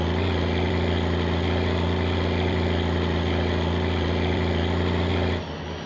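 A tractor engine in the video game My Winter Car drones at a loud, steady idle with a low, even hum, then drops to a quieter tone near the end, with no talk.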